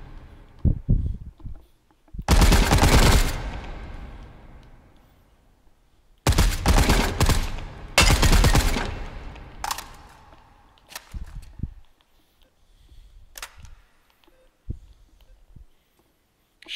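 Two guns fired together in the VR shooter H3VR let off loud, dense volleys in a few separate bursts, with short gaps and scattered single shots and handling clicks in between.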